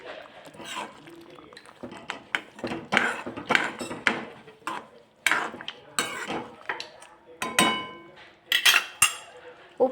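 A spoon stirs and mixes a pot of lima bean (val) curry with tamarind pulp, jaggery and dried fenugreek, giving a run of irregular scraping clinks and knocks against the metal pot, fairly close.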